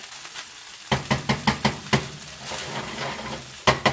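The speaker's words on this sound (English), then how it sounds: "So you're going to get that sauteing a little bit there" Sauteing in a hot pan stirred with a wooden spoon: a row of quick, close knocks of the spoon against the pan over a soft sizzle, then a quieter stretch and two more knocks at the end, with no talk.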